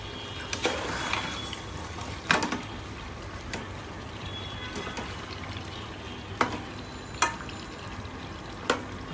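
Beef curry stirred in a pot, soft and low: a quiet simmering bed with occasional sharp clinks and scrapes of a spoon against the pot.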